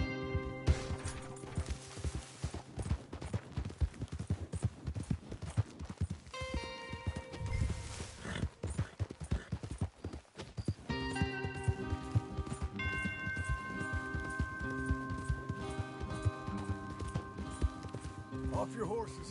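Horses galloping in Red Dead Redemption 2, a fast, continuous clatter of hooves under an orchestral score, with some talk over the ride.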